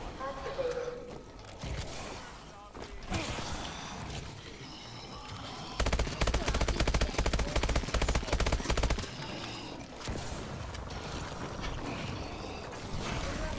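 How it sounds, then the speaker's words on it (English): A Lynx gun in a zombie shooter game rapid-fires like a machine gun, a dense, loud burst of rattling shots lasting a few seconds, framed by quieter game sounds and voice before and after. "I know how to turn the Lynx into a little machine gun."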